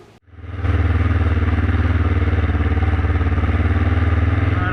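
A road motorcycle fitted with new dirt bike tyres and bought cheap starts up, then settles into a loud, steady, close engine drone with a rapid pulsing beat, with no talking.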